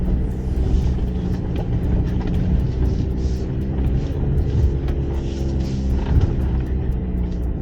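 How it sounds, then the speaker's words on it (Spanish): A 2025 Maxus T60 MAX pickup climbs a small loose-stone ditch in 4H, its engine holding a steady, loud, even drone with low rumble and scattered faint clicks and knocks from the terrain. "se siente muy lineal ese motor de cómo va subiendo"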